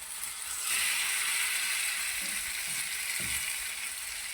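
French toast fries slowly in a little ghee or oil on low heat, giving a close, steady hiss with a few soft taps from a utensil.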